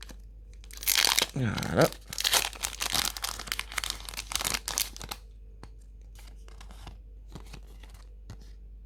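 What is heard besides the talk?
tearing open a Pokémon Genesect booster pack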